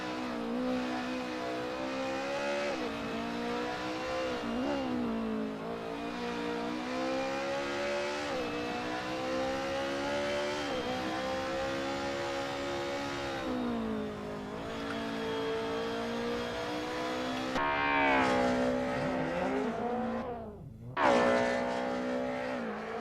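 Race car engine on a time attack lap in a touge racing video game, a loud continuous whine that repeatedly climbs and dips with shifts and braking over twenty-odd seconds, with a sharp cut and rev burst near the end.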